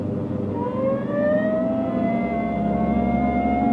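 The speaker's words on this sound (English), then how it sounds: "Hit the siren." A police car siren in an old radio crime drama wails in rising, overlapping tones, loud and continuous over a low engine rumble.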